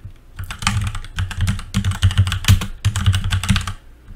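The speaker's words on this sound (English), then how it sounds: "I would hit the Windows key and then start typing troubleshoot printer" Rapid, close keystrokes rattle on a computer keyboard in three dense bursts separated by brief pauses, with nothing else in the background.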